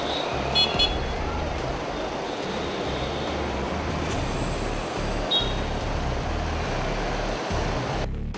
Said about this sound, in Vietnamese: Bấm còi.